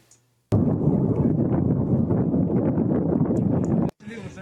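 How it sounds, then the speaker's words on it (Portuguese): Large explosion at night in Ukraine war footage, a sudden blast that swells into a loud, sustained low roar lasting about three seconds, then cuts off abruptly. "houve uma grande explosão aqui nessa noite, de ontem para hoje"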